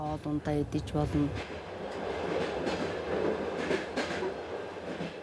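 A voice speaks briefly, then a train in Mongolia rumbles steadily along the rails with a continuous rolling roar and faint clatter.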